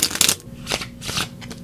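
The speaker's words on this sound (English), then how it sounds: "and then we will shuffle." A deck of playing cards is riffle-shuffled and finished with a bridge: a loud burst of fluttering card snaps at the start, followed by several shorter riffles and soft taps, with no talking.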